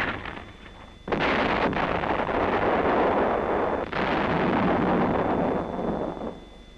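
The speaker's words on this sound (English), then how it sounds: "Enemy indirect fires now begin blasting the defense position." Enemy indirect fire pounds a defensive position: a long, loud roar of blasts and rumbling explosions rises abruptly, swells again midway, then fades out, with no voices.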